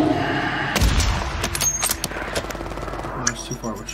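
Video game gunfire cracks out in a quick burst of several loud shots that trail into scattered thumps, while a player talks over the action.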